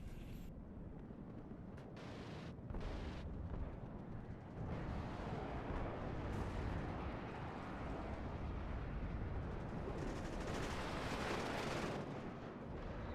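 Mortar fire in the real-time strategy game WARNO pounds a tree line with dense, continuous rumbling blasts and crackling impacts that layer into a loud, sustained barrage.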